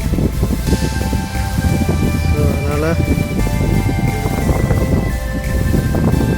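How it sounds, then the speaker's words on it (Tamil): Wind blowing outdoors during light rain near crop fields, a continuous rushing roar with gusty buffeting on the microphone, loud and close, while someone speaks over it throughout. "மழை வந்துட்டு இருக்குது. லைட்டாக தூரம் போட்டுக்கிட்டே இருக்குது. காற்று அடிக்குது."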